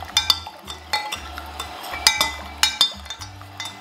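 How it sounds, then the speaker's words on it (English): A spoon stirring sugar into about 500 ml of boiling water in a jug for beer priming solution, quick clinking taps against the sides at close range with no talk. "Just mix that sugar in, make sure it's all dissolved."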